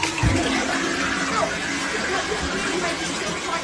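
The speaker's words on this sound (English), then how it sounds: "One second, I'm doing the flush." A household toilet flushes with a rushing, gurgling swirl of water close by, while muffled chatter and voices carry on in the background.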